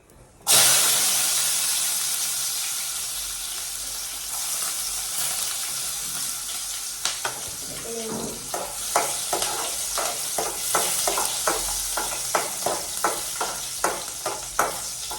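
Ginger and garlic hit hot oil with popped mustard seeds, a loud steady sizzle and hiss with a sharp onset, joined later by a run of rhythmic spoon-scraping stirs against the pan.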